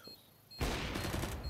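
Burst of gunfire in Counter-Strike: Global Offensive during a competitive match, a loud sudden blast of shots following a short quiet lead-in.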